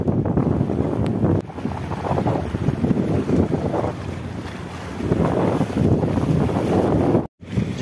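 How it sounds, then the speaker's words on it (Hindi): Sea waves wash against the Mumbai shore at night with a continuous surging roar and heavy wind buffeting, swelling louder toward the end, followed by a brief dropout. "जैसे जैसे यहाँ पे रात होती है यहाँ की लहरें बढ़ती हुई चली जाती है"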